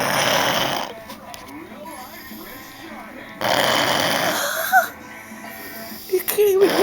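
A man snores loudly indoors in long, rasping bursts with a pause between breaths, while a person talks over the quieter gaps.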